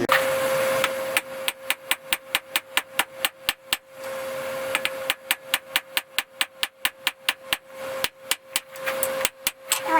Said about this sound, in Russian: поэтому мы сейчас ребром молота по плоскости разгоним в длину, начнем разгонять